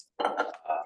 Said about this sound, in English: Passing around the glass.